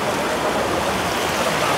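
A strong river current swollen by rain rushes steadily and loudly, a dense continuous wash of flowing water with no voices.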